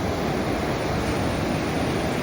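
Pacific Ocean surf washing onto the beach at Torrey Pines, La Jolla, a steady broadband roar of breaking waves with light wind, continuous and fairly loud with no voices.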